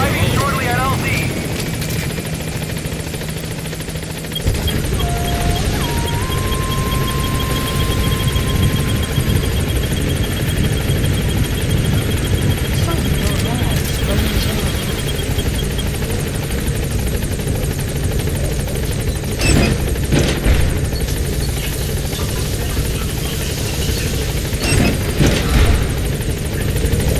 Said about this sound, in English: Dispatching chopper. This is T-Squad. Arriving shortly at LZ.